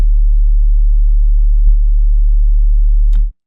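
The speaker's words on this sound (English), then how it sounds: "Just a simple sine wave." A pure sine-wave sub bass from an electronic music track holds a steady, deep low hum alone, with one small click in the middle before cutting off abruptly near the end.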